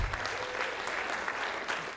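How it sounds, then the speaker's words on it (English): Audience applause at a sports and education event, a short burst of steady crowd clapping that holds at an even level throughout. "you can give him a clap."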